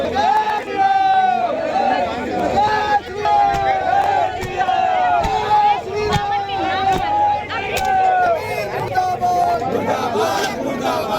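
A protest crowd fills the streets of Lucknow with loud, continuous chanting and shouting, rhythmic voices rising and falling over dense street hubbub.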